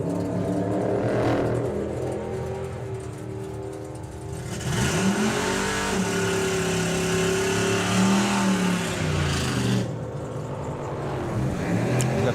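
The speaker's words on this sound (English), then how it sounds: "Brian's car's still running." A drag racing car at the Nostalgia Nationals drag strip idles and revs, its engine pitch rising and falling in smooth sweeps, steady and moderately close with no voices.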